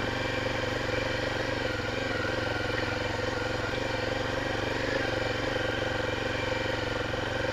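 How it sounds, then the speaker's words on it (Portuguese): A Honda Tornado 250 motorcycle missing its front tyre runs steadily on a muddy ride, a loud continuous engine drone with no clear revving changes. "Essa moto tá sem pneu dianteiro."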